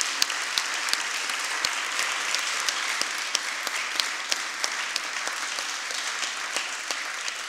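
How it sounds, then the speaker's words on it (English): An audience applauds the event team at a corporate reporting event, a steady wash of many hands clapping that holds evenly through the whole stretch, with a few sharper individual claps standing out. "I think they deserve a big applause for this event"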